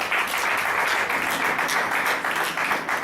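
A church congregation applauds to acclaim Jesus with dense, steady clapping that fills the room, loud and continuous with no talk over it.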